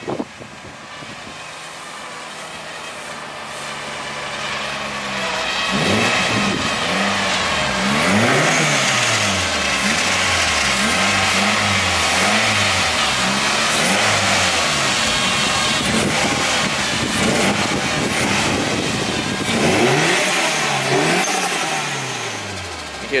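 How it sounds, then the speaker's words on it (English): A modified turbocharged Scion tC engine idles, then revs repeatedly in rising and falling sweeps with turbos spooling, loud and close, settling back between blips before a final burst. "You hear the turbos just spooling."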